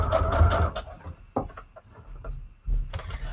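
A sewing machine stitches tags and envelopes in quiet, short runs: a brief whirring burst at the start, then scattered soft clicks and taps, with another short burst of stitching at the end.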